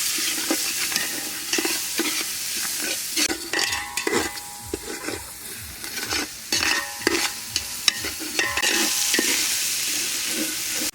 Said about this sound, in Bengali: মশলাগুলো তৈরি সুন্দরভাবে কষে নিয়ে দেবো।